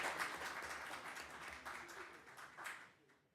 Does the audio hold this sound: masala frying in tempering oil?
no